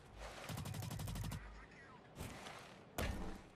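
Video game gunfire in Blacklight Retribution: a rapid automatic burst of evenly spaced shots, then a single sharp report and a later loud blast, all close and punchy amid game ambience.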